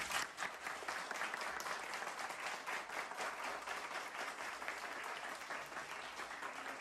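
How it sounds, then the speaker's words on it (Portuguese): A crowd at a municipal entrepreneurship ceremony applauds SEBRAE and the secretaries. The clapping is steady and dense and holds for several seconds at moderate distance, with no talk over it. "eu queria pedir aí uma salva de palmas para o SEBRAE e para todos os secretários."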